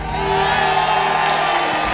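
Crowd of people cheering, whooping and applauding at a nighttime TV game-show taping in Idukki, a steady loud wash of noise that holds for the whole stretch.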